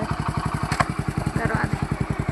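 A freshly serviced tractor engine idles nearby with a steady, rapid, even thumping that holds a constant pace throughout.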